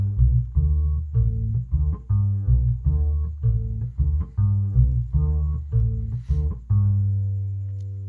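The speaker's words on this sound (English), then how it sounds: "It's a six-string guitarrón bass, and it sounds like this." A six-string mariachi guitarrón bass plays alone, its deep plucked notes ringing out in a steady, rhythmic bass line with a final note left to sustain and fade.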